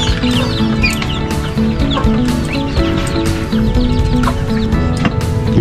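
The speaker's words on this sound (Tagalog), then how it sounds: "Sisiw ng pabo." Turkey chicks chirp nonstop at a farm during afternoon feeding, a loud, dense mass of high peeps with some lower clucks mixed in, and no talking.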